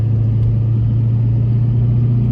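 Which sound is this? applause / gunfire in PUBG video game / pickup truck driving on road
pickup truck driving on road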